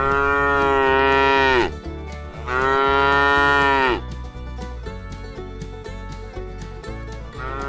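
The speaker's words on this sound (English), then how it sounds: "There is a science to the moo." A cow moos loudly and close twice, each call long and drawn out, with a steady low rhythmic backing underneath.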